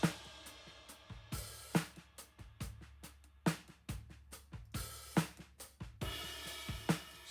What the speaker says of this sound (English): we got our overheads, which I know are Coles 4038s